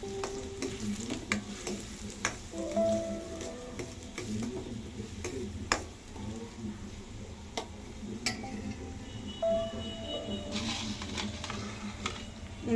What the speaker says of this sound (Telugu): ఈ పచ్చిమిరపకాయలు కూడా అందులో పోసి ఒకసారి మనం బాగా కలుపుకుందాం